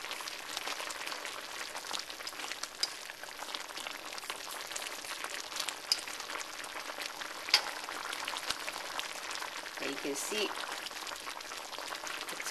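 Beef chow mein sauce thickened with corn flour bubbles and simmers in a pan, a steady soft seething texture close by, with a person talking over it.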